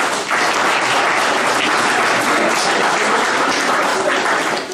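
An audience in a town hall applauds at a field trial gathering, sustained steady clapping from a sizeable crowd lasting several seconds before tapering off.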